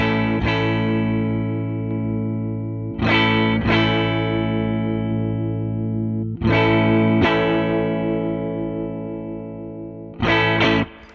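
An electric guitar runs through a blend-style pedal with its mids toggle in the down, flat position, playing sustained chords restruck four times, each strike followed by a long, ringing decay with no talking.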